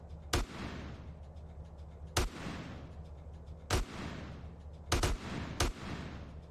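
Five loud, sharp gunshots in Grand Theft Auto: San Andreas, fired singly at irregular intervals, each cracking out over a low background hum with no talking.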